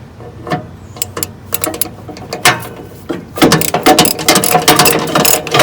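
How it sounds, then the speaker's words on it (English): Ratchet wrench loosening bolts on the deck of an MTD 638RL Yard Machines riding mower, sharp clicking bursts at first, then rapid continuous ratcheting clicks close up. "loosen them obviously with the ratchet first"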